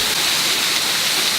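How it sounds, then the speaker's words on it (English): Water of the Buttermilk Falls rushes in a steady, loud broadband roar from near the top of the waterfall, continuous and unbroken with no voices. "Here's the top of the falls."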